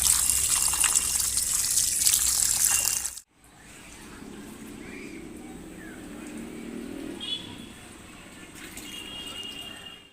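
Peeled potatoes rinsed by hand under running water, a steady trickle and splash in the first few seconds, then the flow stops and only quiet handling and faint room sounds remain.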